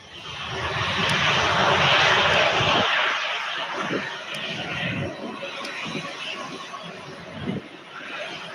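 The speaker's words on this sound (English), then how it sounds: "here's a Southwest Airlines 737-800." A Southwest Airlines Boeing 737-800 roars past at an airport, a loud broad jet rumble peaking early then gradually fading into the distance.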